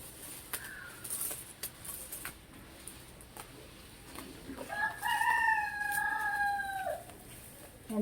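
A rooster gives a single drawn-out crow midway through, moderately close, over a quiet yard with faint background noise and a few scattered knocks.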